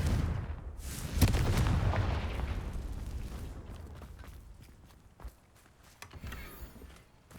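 In a video game, a Confringo explosion spell goes off with a loud, booming blast that rumbles and slowly fades over several seconds, followed by faint footsteps and small clatters.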